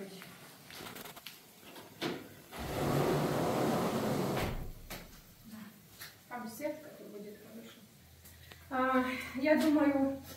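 Cupboard doors being opened in a rural American home, heard as a sustained rumbling, creaking stretch near the start followed by softer knocks, with people talking around the movements.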